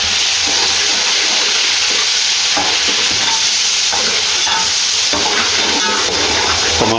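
Tomatoes are stirred into a loud frying Kabuli pulao base, a dense continuous sizzle up close with repeated spatula scrapes.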